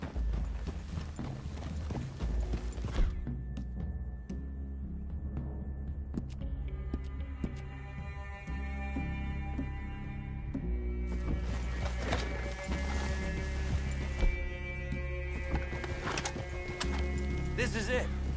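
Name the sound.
horses walking, hooves clip-clopping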